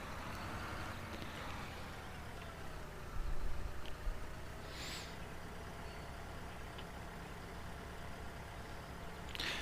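Tractor in the Farming Simulator 2013 video game drives along on a farm, a steady loud engine drone throughout with a brief heavier rumble midway.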